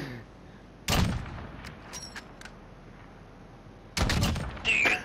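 Video game gunfire hits in two bursts, a sharp volley of loud close shots near the start and another rapid cluster later, with lighter clicks and metallic sounds between them.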